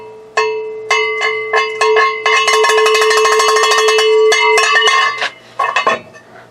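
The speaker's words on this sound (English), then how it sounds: "Hey, would you like some cowbell?" A cowbell is struck repeatedly, first in a few separate clanks and then in a rapid continuous run of bright metallic hits, followed by a few scattered strikes, loud and close with no talking.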